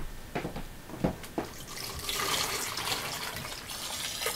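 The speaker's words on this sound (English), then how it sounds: "Pour some of this into the jug," Pottery glaze being poured from a container into a good-sized jug, a few knocks and splashes followed by a steady liquid pour that swells and carries on, fairly close.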